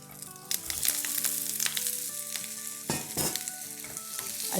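Leftover rice being stir-fried with curry leaves, garlic and chillies in a pan, a loud close sizzle with clattering stirring strokes under background music.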